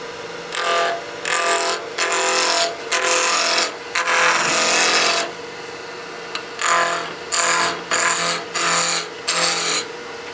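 A wood lathe spins a cigar case blank at about 2500 RPM while a tool cuts it, giving repeated bursts of loud broadband cutting noise separated by short pauses, close and with no talking.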